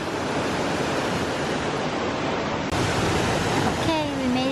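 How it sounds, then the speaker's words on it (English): Torc Waterfall in Ireland roars as a broad, steady rush of falling water close by, with a brief voice-like tone entering near the end. "Okay, we made it to the waterfall."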